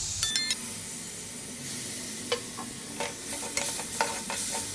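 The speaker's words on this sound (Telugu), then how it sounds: "ఇప్పుడు ఇందులోనే రెండు స్పూన్ల పెరుగు వేస్తున్నాను నేను" Curd is stirred into an okra (bhindi) curry in a pan: scattered scraping clicks of a spoon over a faint sizzle, with a few brief close taps and no talk.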